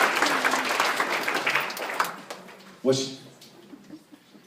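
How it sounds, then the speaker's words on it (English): Audience applause at a live comedy music show, a dense burst of clapping that tapers off after about two seconds, followed by a brief spoken voice and scattered claps. "Give them a round of applause."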